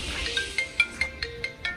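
A mobile phone rings with a repeating electronic ringtone, its tonal notes pulsing in regular bursts about every fifth of a second, loud and close with no talking.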